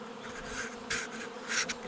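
A honeybee swarm clustered in a cherry tree in May hums with a dense, continuous buzz, with a few louder passes as single bees fly close by the microphone, and no voices.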